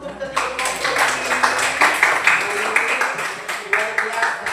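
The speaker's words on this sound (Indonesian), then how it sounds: "kita beri tepuk tangan untuk ketiga kelompok ini" A classroom audience claps for three student groups, with a moderately loud, rhythmic patter of hands pulsing steadily under some voices.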